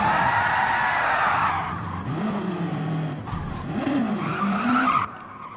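A race car spins out on a bumpy turn in a Gran Turismo–style Gr2 racing game, with loud sustained tire squeal and skidding over a revving engine that fades and then surges again, close and continuous with no talk.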